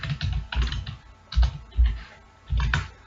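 Typing on a computer keyboard, with close, sharp clusters of key clicks in uneven bursts separated by short pauses.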